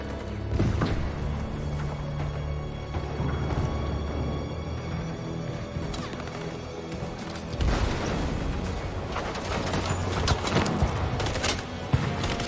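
Gunfire in the Detroit: Become Human video game, rapid bursts of shots and clattering impacts layered over mechanical noise, loud and close with busy dense stretches.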